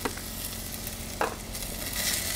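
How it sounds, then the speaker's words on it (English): Zucchini, carrots and onions stir-frying in a pot, a steady loud sizzle with a couple of brief clatters of the utensil stirring, no voices. "And you're going to cook that up a little bit."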